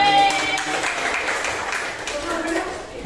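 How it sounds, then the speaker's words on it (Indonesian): A class of students claps hands steadily in a classroom while a voice talks over the applause, the clapping close and fairly loud before tapering off. "luar biasa kasih tepuk tangan"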